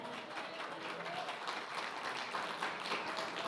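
A church congregation claps together in praise, a faint, uneven patter of applause in a worship service with a hint of voices beneath.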